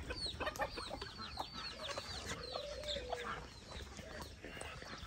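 Farm chickens on a small rural smallholding cluck steadily in a lively, close flock, with scattered higher bird calls and occasional crowing-like notes over a constant outdoor background; no talk.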